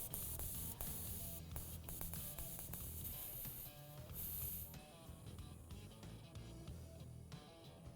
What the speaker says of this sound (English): We'll let all of that nitrogen leak out for now before we finish removing the screw.